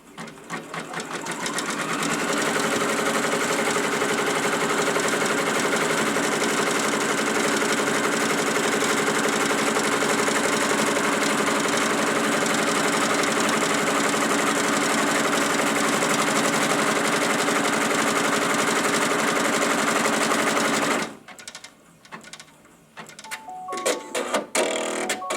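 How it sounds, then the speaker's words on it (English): An embroidery sewing machine stitches the outline of a quilt block, a steady loud whirring hum that runs for about twenty seconds, then stops abruptly and leaves a few soft clicks and handling sounds. "the first thing it's going to do is outline the entire perimeter of the quilt block"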